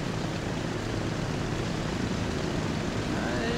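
An airliner in the Transport Fever game comes in slowly to land on a runway, heard as a constant, loud broadband engine roar with no breaks.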